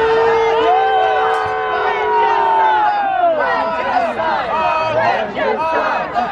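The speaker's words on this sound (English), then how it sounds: "Let's cheer for our king" A crowd at a live-action chess event at a medieval festival erupts in cheers and shouts for their king, loud and close, with voices rising over one another.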